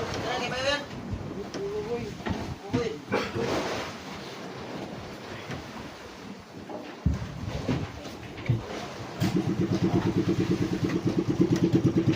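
The engine of a broken-down boat on the Pacific Ocean, with a smell of burning rubber block, sputters and then settles into a loud, steady, rapid throbbing near the end, with voices talking and wind and surf noise before it.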